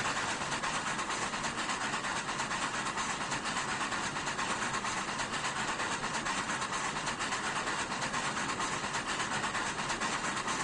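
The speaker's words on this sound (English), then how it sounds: "Caboose just passed it." A train with a caboose rolls past in the Trainz 2019 railroad simulator, a steady, dense rumble of wheels and engine at constant level throughout, with no talk.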